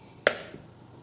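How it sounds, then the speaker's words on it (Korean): A knife chops food inside a box while preparing a Mediterranean pasta salad: one sharp, loud thwack followed by a fainter second tap and quiet room tone. "칼로 이렇게 이 박스 안에서 칼질을 해주시고요"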